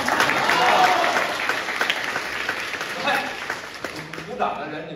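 A live crosstalk comedy audience claps in a dense, steady round of applause that slowly thins out, with a voice faintly heard under the clapping.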